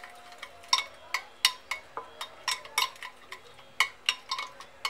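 A spoon clinks and taps repeatedly against a bowl while fish korma marinade is mixed with spice powder and salt, producing quick irregular metallic ticks, close and fairly quiet.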